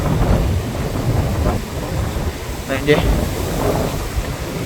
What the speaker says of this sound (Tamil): அலைகள் எப்படி வருதாண்டு